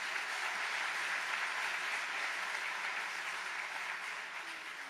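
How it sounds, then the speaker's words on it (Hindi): A large audience at a Bhagavat katha devotional event in Canada claps for the organising team, a dense, sustained wash of applause that holds steady and only slightly fades toward the end. "एक बार भक्ति पथ नॉर्थ अमेरिका की पूरी टीम के लिए ताली बजाओ"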